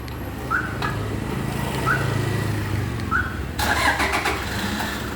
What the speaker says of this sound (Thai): นี่ครับผมเครื่องยนต์สตาร์ทติดนะครับ